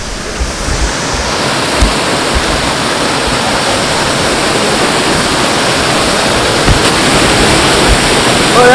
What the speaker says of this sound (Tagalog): So nandito na kami kung saan yung sinasabing Busay Falls.